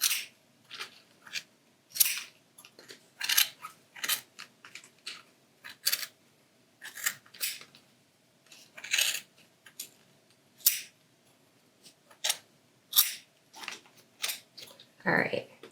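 Repeated sharp snips of scissors cutting through bundled yarn for pom-poms, irregular bursts spread over several seconds, close and fairly loud against a quiet background.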